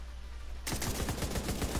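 An automated turret in The Division 2 fires a rapid, regular burst of gunshots that starts abruptly after a moment of game ambience and continues steadily to the end.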